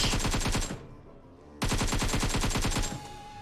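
Rapid automatic gunfire rattles in PUBG Mobile, aimed at a player behind a wall, in two sustained bursts separated by a brief pause, close and loud.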